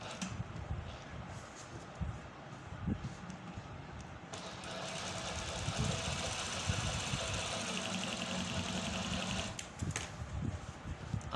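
A sewing machine runs steadily while stitching a seam alongside a presser-foot-width guide, with a continuous mechanical whir that grows louder midway through and carries on with no talking.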